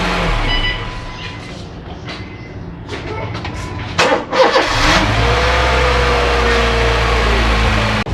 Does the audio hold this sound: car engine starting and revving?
yes